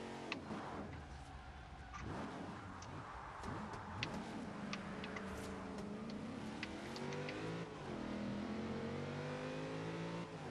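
A 928 BHP Nissan Skyline GT-R R34 in Forza Horizon 2 revs and accelerates through rising and falling engine sweeps, with gear-shift dips and small ticks, loud and continuous without talk.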